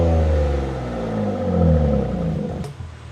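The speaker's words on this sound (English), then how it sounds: "Open exhaust. Go ahead, rev it." BMW M3 engine revving with its exhaust valves open, a deep, loud roar that swells, dips and swells again before falling away near the end, close by with no talk.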